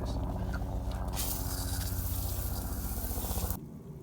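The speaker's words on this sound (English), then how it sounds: "Let me hose down the deck now that we've sprayed this plant." A garden hose sprays water across a deck outdoors, a steady rushing hiss that runs loud and unbroken for about three and a half seconds before cutting off abruptly, with no talk over it.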